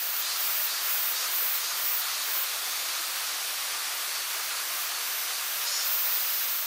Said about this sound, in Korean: 우레 같은 폭포 소리가 산을 깨우는데요.